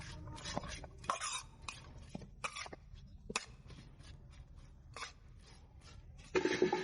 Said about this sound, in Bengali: এভাবে মশলাগুলো ভালোভাবে মিশিয়ে নিতে হবে।